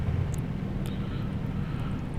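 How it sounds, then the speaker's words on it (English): Low aircraft rumble from a Lufthansa plane landing at Schiphol Airport in Amsterdam, heard in a truck driving simulation game, steady and continuous under faint engine drone with no talking. "we can see a plane landing here at Schiphol Airport in Amsterdam"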